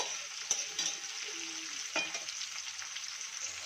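Onions and chopped tomatoes frying in a pan for a catfish curry, a steady moderate sizzle punctuated by a couple of sharp stirring knocks, close and without voices.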